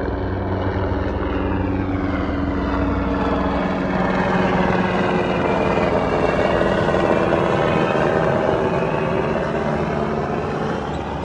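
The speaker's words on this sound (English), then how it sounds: "Helicopter, wow, that's interesting." Helicopter passing overhead near a Navy base at the north end of Veracruz, a steady loud rotor and engine drone that holds for the whole stretch without letting up.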